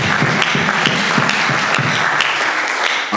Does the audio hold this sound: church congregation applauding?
yes